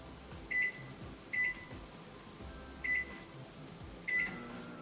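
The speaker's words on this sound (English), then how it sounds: "And we're going to microwave for 5 minutes." Quiet steady hum of a microwave oven running while cooking almonds, with four short high tonal beeps spaced irregularly over the low drone.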